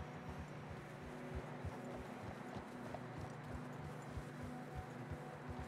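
Horse hooves clip-clop at a steady walking rhythm through Red Dead Redemption 2 gameplay in snowy country, repeated dull thuds close by under a continuous windy hiss.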